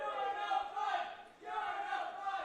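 Baseball fans in the stands at an independent league game chant in unison, a loud, steady rhythmic crowd chant in two swelling phrases with a brief dip between them.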